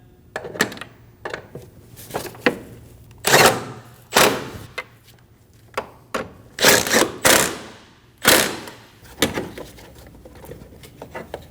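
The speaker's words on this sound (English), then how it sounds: "Snug the bolts down." Ratchet and wrench work snugging two bolts on a 2012–2022 Volkswagen Passat transmission mount, heard as close, sharp clicking and clunking bursts in an uneven rhythm with short quiet gaps, no voices.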